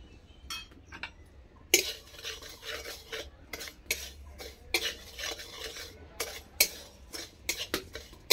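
Spoon stirring sugar caramel in a pan for tamarind chutney, scraping and clinking in irregular bursts against the metal, with a soft sizzle underneath, close and moderately quiet.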